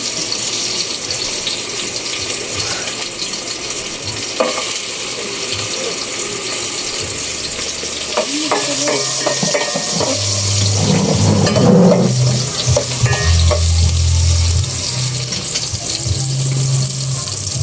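Steady loud sizzling fills the whole stretch, with clinks and scraping of a utensil against a pan and bubbling layered in, as ginger and chicken cook for tinola.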